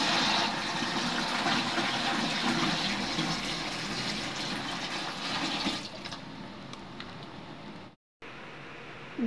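Tap water runs steadily into a container for mixing homemade dishwashing liquid, a broad rushing pour lasting several seconds before briefly cutting off.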